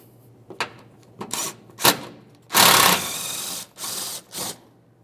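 Mounting bolt being removed from the front bumper cover of a 2008-2017 Mitsubishi Lancer: a series of short mechanical ratcheting and clicking bursts with a longer rattling stretch in the middle, close and fairly loud, with no talk.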